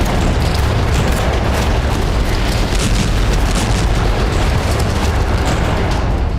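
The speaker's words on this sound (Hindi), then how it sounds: "अंशकालिक युद्ध विराम का ऐलान होते ही हिजबुल्लाह ने उत्तरी इजराइल में बारूद बरसाना शुरू कर दिया।" Explosions from Hezbollah shelling in northern Israel form a loud, dense, sustained rumble of blasts that runs unbroken for several seconds, with no speech over it.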